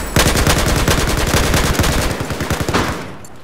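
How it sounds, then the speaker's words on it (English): Rapid automatic gunfire in Battlefield 4, dense overlapping machine-gun bursts filling the whole stretch, loud and close. "Start shooting,"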